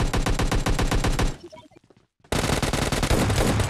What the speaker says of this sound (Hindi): तो उसे मेरा टीममेट शॉट गन से मार देता है।